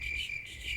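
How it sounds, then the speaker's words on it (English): Crickets chirp in a shrill, continuous trill used as a sound effect, fairly faint and steady for a brief moment, with no speech over it. "crickets chirping"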